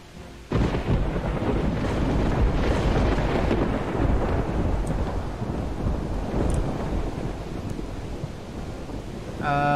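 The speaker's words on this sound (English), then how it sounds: "now we're just running through the rain" Heavy rain and rumbling thunder in the video game Project Zomboid, a loud steady wash of storm noise that starts abruptly and persists throughout.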